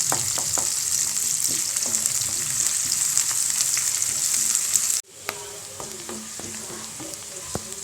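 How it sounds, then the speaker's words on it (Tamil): Onions frying in hot oil for a South Indian chicken gravy, a loud, dense, steady sizzle with occasional stirring taps, briefly cut off about two-thirds through before resuming slightly quieter. "எண்ணெய் காஞ்சதும் வெங்காயத்தை போட்டு வதக்கலாம்."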